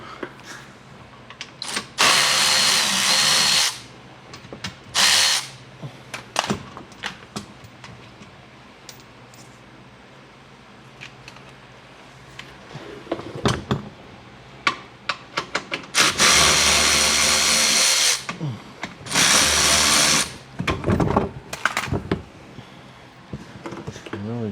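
A power drill backs Phillips screws out of the under panel of a Mercedes 300E 3.4 AMG, with several loud whirring bursts separated by quieter pauses, clicks and handling noises.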